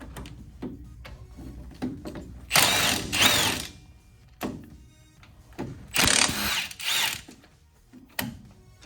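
18 mm bolts on a 2015-2017 Ford F-150 4x4 hub assembly being removed with a power tool, several loud close bursts of rattling impact whirring separated by quieter ratchet clicks and shop handling noise, no talking.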